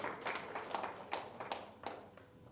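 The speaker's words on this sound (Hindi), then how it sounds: "आई एम रिस्पेक्टफुल कि आप ताली बजा रहे हो" Scattered applause from a lecture audience at a national seminar, with sharp separate claps in an uneven rhythm at moderate distance and no voices over it.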